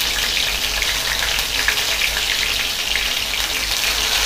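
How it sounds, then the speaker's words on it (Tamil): Soya chunks (meal maker) marinated in masala and curd fry in oil on a low simmer for soya 65, giving a steady, dense sizzle with crackling throughout, close and even, with no talking. "நல்லா ஃப்ரை ஆகணும்."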